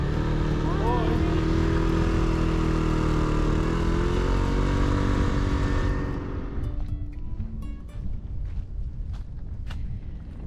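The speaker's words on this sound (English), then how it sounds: "As we were driving along on the motorcycle, we found this cute little opening." A motorcycle ridden along a road on Bonaire, its engine drone and wind rush loud and steady for about six seconds before cutting off, leaving quieter outdoor sounds behind.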